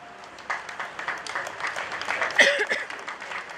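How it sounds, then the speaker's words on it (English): Applause from the audience at a prison inmate graduation ceremony at Mile II headquarters in Banjul, a moderate round of clapping that swells after a quiet start and stays fairly steady. "Another round of applause"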